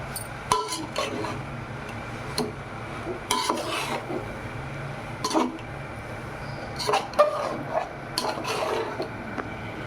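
Cooked rice being stirred into a mint rice mixture in a pan: scraping and clinking spoon strokes against metal come in irregular bursts over a faint background hiss, with no talking.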